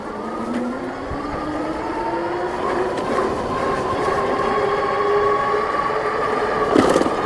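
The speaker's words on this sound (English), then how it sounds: "I think that was the chain making most of that noise" An Amyet S8 dual-motor electric bike on a ride, its chain and drivetrain giving a steady loud whir with a rising tonal whine and rattle as speed builds, close up, no talking.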